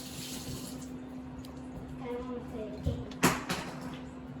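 Tap water runs into a kitchen sink as hands are washed while making cookies, a steady faint splash with a brief louder clatter near the end and people talking in the background.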